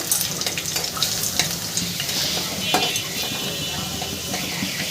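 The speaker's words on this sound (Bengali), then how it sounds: "রসুনটাও একটু হালকা করে ভাজা ভাজা করে নেব" Hot oil sizzles steadily as three chopped garlic cloves fry lightly, with occasional scraping and stirring taps of a utensil in the pan.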